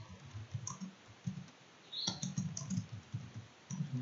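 Keys clack on a computer keyboard in short irregular bursts as someone types, close and moderately loud, with a faint background hiss.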